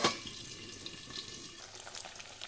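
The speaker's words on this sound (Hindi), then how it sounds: "अब ऐसे ही हम दूसरी तरफ से भी फ्राई कर लेंगे।" Paneer pieces fry in a pan after being flipped, giving a steady, close sizzle with a brief louder burst at the start and no talk.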